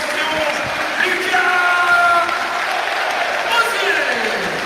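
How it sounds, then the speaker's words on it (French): A large stadium crowd at a Ligue 1 match between Stade Rennais and RC Strasbourg applauds and cheers, a broad wash of clapping and raised voices rising and falling over several seconds. "Et ouais, il est applaudi."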